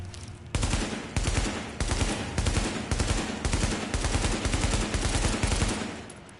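Gunfire on a firing range in the video game The Division comes as loud, rapid automatic bursts repeating in steady strings with brief pauses between them.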